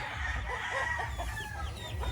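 Chickens cluck and call continuously behind a house in a small backyard area, a dense flock chorus with overlapping bird voices and steady background noise.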